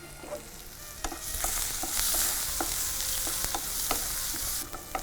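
Onions fry in hot oil with mustard seeds, curry leaves, asafoetida and a pinch of salt, giving a steady close sizzle broken by repeated spoon scrapes and stirring clinks in the pan.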